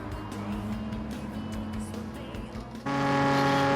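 Racing engine from Gran Turismo 7, a steady loud roar with shifting harmonic tones, then a sharp jump to a higher, louder sustained whine near the end as the car revs hard at the start of a race.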